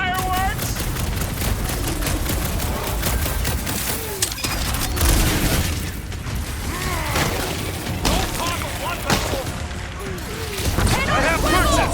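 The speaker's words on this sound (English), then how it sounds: "Want to see some fireworks?" Dense, continuous explosions and crackling blasts fill a battle in the video game Marvel's Guardians of the Galaxy, loud and relentless, with voices talking over the din.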